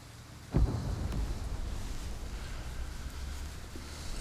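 Distant explosions sound in a wartime film scene, a low rumbling boom followed by a sustained, muffled rumble.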